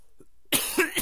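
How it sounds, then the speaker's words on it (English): A sick person with a sore throat lets out a harsh, close cough, preceded by faint breathy sounds, then a couple of rougher follow-up bursts. "but now I got this really dumb cough"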